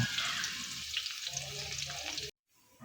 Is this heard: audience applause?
no